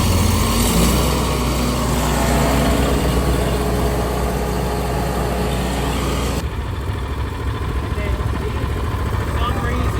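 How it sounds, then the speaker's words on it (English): A machine engine runs at a steady idle with a loud, constant rumble, then the tone and mix shift partway through as the throttle is raised, and there is no speech. "Let it sit for a couple seconds at low idle, then slowly raise your throttle up."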